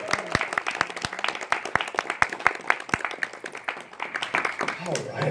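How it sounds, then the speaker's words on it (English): Applause from the audience at a pony fan convention panel (Whinny City Ponycon 2022): dense, steady clapping with sharp individual claps standing out, lasting throughout, with a murmur of voices underneath. "Once again, round of applause for all the staff here in the city."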